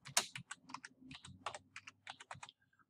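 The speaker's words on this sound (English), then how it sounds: "start typing my text" Keys clatter on a computer keyboard while text is entered into a block diagram drawing, a close, quick run of crisp taps with short pauses, ending in a faint beep.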